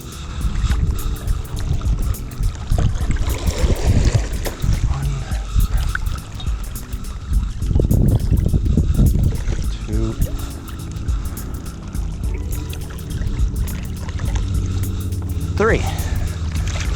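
Paddle strokes in water from reverse sweep strokes on an 11-foot paddle board, swishing surges of water near the board with several strong pulls, under a voice talking over wind.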